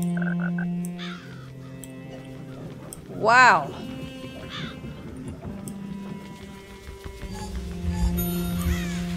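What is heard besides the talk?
crow cawing in video game Child of Light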